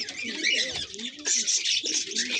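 Madrasi highflyer pigeons coo close by in soft, throaty bursts that repeat over a couple of seconds.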